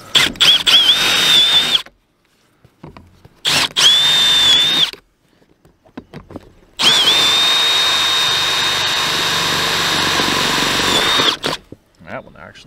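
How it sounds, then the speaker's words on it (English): Power drill boring holes into a wall, three loud whining bursts: two short runs followed by a longer sustained one, separated by quiet gaps. "All right, let's drill these holes out."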